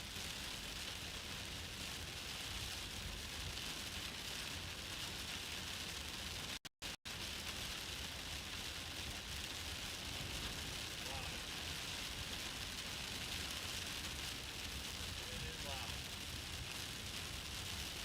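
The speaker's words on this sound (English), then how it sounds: "It's gonna rain." Rain falling steadily during a tornado-warned supercell storm between Nebraska and Iowa, a dense, even hiss that fills the whole stretch, broken only by a brief dropout midway, with no voices.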